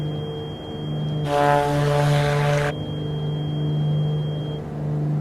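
Black Square Grand Duke twin-engine airplane in Microsoft Flight Simulator, steady droning engines and propellers with a loud tonal hum held throughout and a brief surge in throttle noise, close and constant, no voices.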